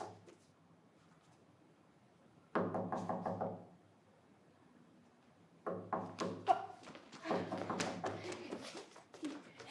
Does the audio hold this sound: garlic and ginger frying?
no